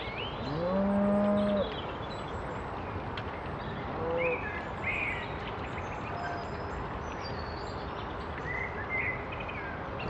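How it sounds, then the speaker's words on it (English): Cattle moo by a canal at about 5:30 in the morning, two deep calls early on, moderately near, against a quiet outdoor background with faint bird calls. "I can hear the cows mooing and the crows as they fly overhead."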